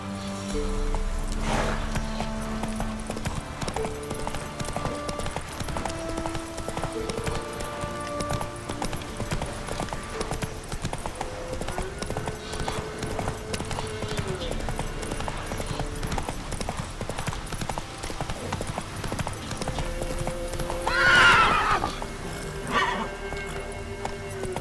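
Horse hooves clip-clop at a gallop in the Witcher 3: Wild Hunt video game, a steady rhythm running under game music and ambience, with a brief louder burst near the end.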